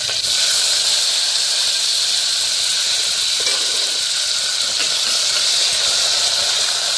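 Loud, steady hiss of tomatoes dropped into hot oil tempered with chilies, dal and curry leaves, a continuous close sizzle with no speech.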